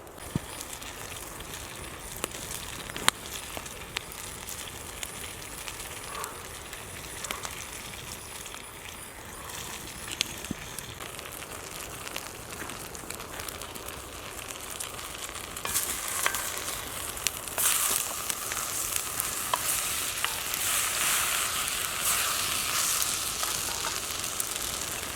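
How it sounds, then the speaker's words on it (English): Potatoes frying in a Dutch oven over a campfire give a steady low sizzle with scattered pops and clinks, swelling into a louder, brighter crackle for the last ten seconds. "So now I'm going to fry up the potatoes."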